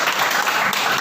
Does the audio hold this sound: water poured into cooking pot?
no